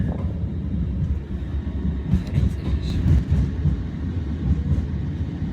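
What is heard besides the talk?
train running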